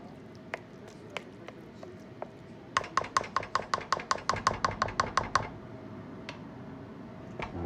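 Egg and potato mixture for a Spanish omelette being beaten in a bowl: a few scattered taps, then a steady run of about fifteen quick, rhythmic clicking strokes, close and clear, before it slows to a few last taps.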